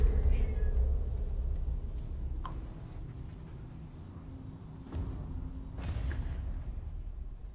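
A cat meows a couple of times, brief and fairly faint, over a low steady background rumble.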